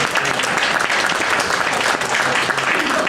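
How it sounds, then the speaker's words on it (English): An audience at an evening talk gives a round of applause, a dense, steady wash of clapping hands that stays loud and even for several seconds. "Everybody, round of applause for Adam"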